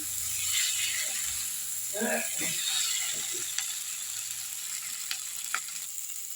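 Capsicum sautéing in a pan for green banana kofta curry, a continuous hiss of sizzling oil with occasional stirring clatter and soft scraping, close and moderately loud.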